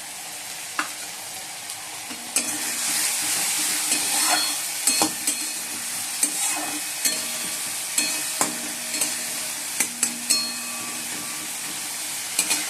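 Spice masala stirred and fried in a pan, with a steady sizzle and repeated scraping clinks of the spoon throughout, close and moderately loud with no talk.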